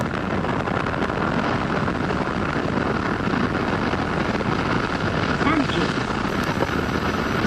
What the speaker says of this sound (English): We have a liftoff with HCA vehicle number 42